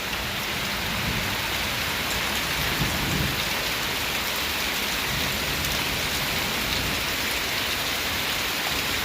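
Steady, even rain hisses across the whole clip, with low rumbles of thunder rolling far off underneath.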